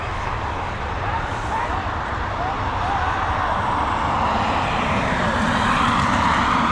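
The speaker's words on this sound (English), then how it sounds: "this 6-year-old Boeing 737 heading over to Toulouse" A six-year-old Boeing 737 jet climbs away from Dublin Airport in the evening, bound for Toulouse, its engines a steady broadband roar that swells gradually and stays loud throughout without any pause.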